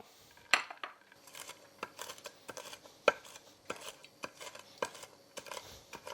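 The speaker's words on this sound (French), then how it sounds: "Alors on va les concasser" Peanuts being crushed for pad thai, a series of sharp, dry knocks and clicks in a steady irregular rhythm, close and fairly quiet, with no talking.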